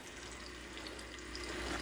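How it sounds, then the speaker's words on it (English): Chicken pieces browning in a pan give off a faint, steady, soft sizzle, a quiet even hiss with no talk over it. "There's a little sizzle."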